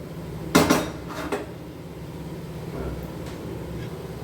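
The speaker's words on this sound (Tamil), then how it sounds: "இப்போ அடுப்பை பற்ற வச்சு பாத்திரத்தை அடுப்பில் வச்சுக்கிடுவோம்." Cooking pot set onto a kitchen stove while making mutton biryani, a sharp metallic clank followed by a second lighter knock, then quiet clattering and steady low stove hum.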